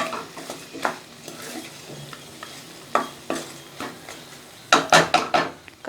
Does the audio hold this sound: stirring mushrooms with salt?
yes